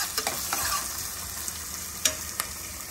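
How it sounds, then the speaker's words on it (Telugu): Onions frying on high heat with tamarind leaves in a pan, a steady hiss of sizzling with a few sharp stirring scrapes and clicks, close and moderately quiet, no voices. "ఎక్కువగా హైలో పెట్టుకొని వేయించుకోవచ్చు."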